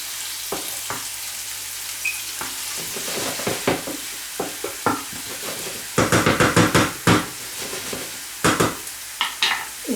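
Onion fries in a pan for a clam dish, a hiss of sizzling under sharp, rapid scraping strokes as it is stirred, with bursts of vigorous stirring toward the end.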